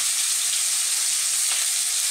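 Shrimp lightly frying in a pan with turmeric and salt gives a steady, close, bright sizzle that holds evenly throughout, with no voices.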